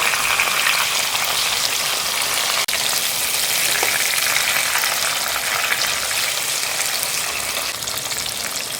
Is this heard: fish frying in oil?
yes